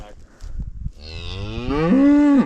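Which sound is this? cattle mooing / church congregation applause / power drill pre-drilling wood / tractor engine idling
cattle mooing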